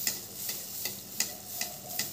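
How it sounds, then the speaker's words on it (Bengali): Palm malpua batter fries in hot oil, a soft continuous sizzle close at hand punctuated by regular sharp ticks and taps of a utensil about twice a second. "ঠিক একইভাবে আবারও গরম তেলের মধ্যে ব্যাটার দিয়ে দিচ্ছি।"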